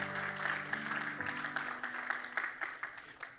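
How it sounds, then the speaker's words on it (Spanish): A church congregation breaks into applause: a soft, fairly distant patter of clapping that holds steady for several seconds while a lingering low tone fades out early on. "¿Alguien puede darle un aplauso al Señor por los discípulos?"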